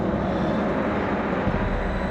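A helicopter in the Jurassic Park video game drones steadily as a loud, continuous engine and rotor roar with no breaks, heard alone.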